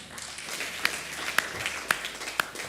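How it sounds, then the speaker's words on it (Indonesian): Light applause from a church congregation, a soft patter of hands with a few sharper individual claps standing out at intervals, fairly distant and moderate in volume. "Tepuk tangan."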